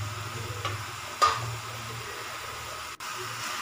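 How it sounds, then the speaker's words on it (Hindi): Cooked sweet vermicelli (sevai), made without milk, is stirred in an uncovered pan under a steady low sizzle with a few brief scrapes, close and moderately quiet, with no voices. "चलाते रहेंगे इसको, थोड़ी देर खुला ही रखेंगे, ढकेंगे नहीं, यूं ही चलाएंगे"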